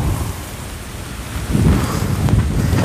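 Strong wind roars steadily in a broadband rush, with heavy gusts buffeting louder in the second half; no voices.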